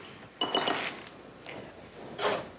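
Spoon being taken out in a home kitchen, with brief clinks and rattles of cutlery and dishes in three short bursts, fairly close and fairly quiet, nobody talking.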